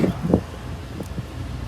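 Steady wind buffeting the microphone outdoors, a low continuous rumble with a couple of brief gusts near the start.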